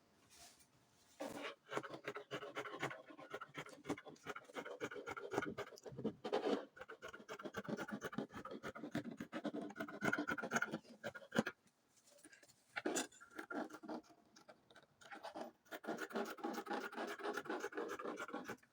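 Scissors cut through fabric for the back panel of a front twist bubu dress. Close, faint crisp snips and scratchy slicing strokes repeat in irregular runs with brief pauses, and no one speaks.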